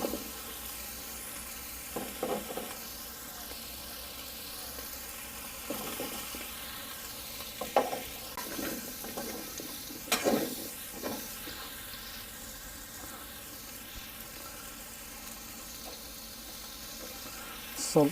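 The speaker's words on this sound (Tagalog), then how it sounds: "Sunod natin yung potato and carrots." Potatoes and carrots sizzle in a hot pan while cooking for a homemade chicken curry, a steady close frying hiss with occasional stirring scrapes and clinks throughout.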